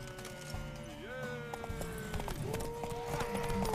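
Horse hooves clip-clop in The Witcher 3: Wild Hunt, a steady trotting patter under in-game music, voices and combat sounds, with a brief whinny partway through; people talk over it.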